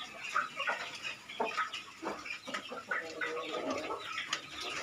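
Young Bangkok gamecock roosters, about five months old, bred from a Black Bull line and kept on a farm, clucking in short irregular bursts at moderate distance, with faint background noise and no clear talk.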